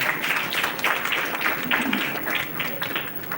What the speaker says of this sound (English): Let's give a big applause to Subhash Chandra sir.